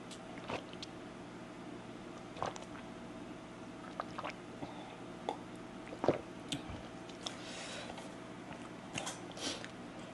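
Soft, close biting and squishy chewing as someone eats chicken feet with khanom chin rice noodles in fermented-fish broth, with scattered small crunches and wet mouth sounds over quiet background.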